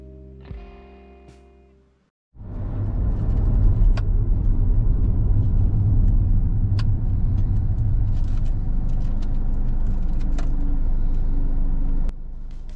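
A car drives onto the M42 motorway via Junction 9, the Dunton Interchange, in North Warwickshire. A short, quieter stretch gives way to a loud, steady road and engine rumble that carries on alone to the end.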